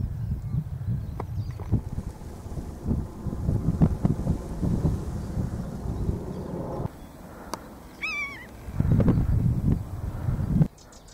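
Wind gusting across open countryside on a walk near Piddlehinton, rumbling and buffeting the microphone in uneven bursts, with a brief bird call partway through.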